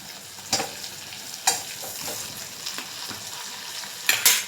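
Eggplant frying in oil with masala in a pan, a steady sizzle broken by several sharp stirring scrapes and clatters.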